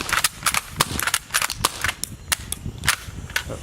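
Toy lever-action gun firing cartridges, a rapid run of sharp, dry snapping cracks repeating at an uneven rhythm, loud and close, with no voices over them.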